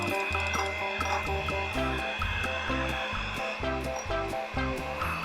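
An electric mixer whips a dalgona coffee mixture of instant coffee, sugar and hot water with a loud, steady whirring drone. The noise runs continuously, close up and alone.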